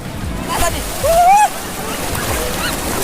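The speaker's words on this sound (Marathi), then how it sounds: "लाटा तर एकदम फास्ट फास्ट चालले" Strong waves at Kashid Beach: rushing surf and churning water fill the clip, with wind buffeting the microphone and a short voice-like tone in the middle.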